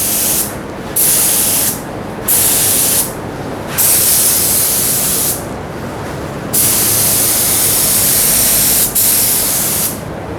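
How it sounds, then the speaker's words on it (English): A Sata spray gun sprays finish onto a wooden face frame in loud, steady hissing bursts of a few seconds each, separated by short pauses. "Let me spray the underside."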